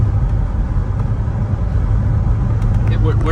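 A Chevrolet Corvette C6 cruising at 55 mph at about 1,500 rpm gives a steady, loud, low-pitched engine drone mixed with road rumble inside the cabin.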